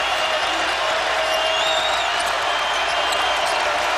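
Crowd noise fills a basketball arena during a Virginia vs. Louisville college game, a steady broad roar of cheering and applause that holds loud throughout, with some whistles and whoops poking through.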